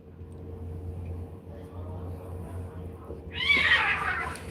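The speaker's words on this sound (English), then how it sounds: "the cats is fighting" Cats fighting outdoors break into a sudden harsh screeching yowl near the end, loud after several seconds of low background hum.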